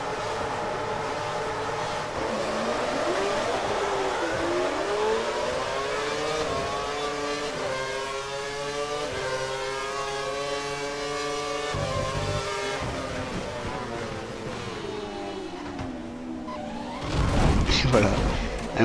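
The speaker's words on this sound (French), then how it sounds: "Il y a eu des voitures qui sont rentrées dans le mur." Race cars from the CBF 360 series start at Valence and pile into the first corner, a sustained engine drone with rising and falling pitch, then a louder rough burst near the end, with someone talking over it.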